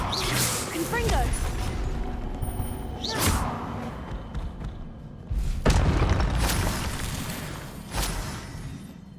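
Fiery Confringo spell blasts from Hogwarts Legacy hit with roughly four heavy booming explosions, each preceded by a whooshing burst and spaced a couple of seconds apart, with rumbling decay between them.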